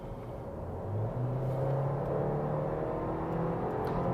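Engine of a Mercedes-Benz CLA Shooting Brake while driving, a steady low hum and drone that rises slightly as the car accelerates, heard from inside the cabin with no talking.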